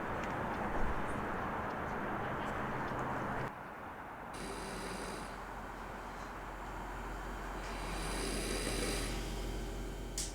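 Heavy snoring from a sleeping person, a long continuous rasping drone filling the whole stretch, with a dull low rumble underneath and no voices.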